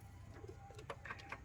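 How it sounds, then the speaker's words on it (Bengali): Pigeons cooing close by, a pair kept for sale, with soft repeated coos and brief calls over a low steady background hum. "পায়রাগুলো ছেড়ে দেখাই তোমাদেরকে"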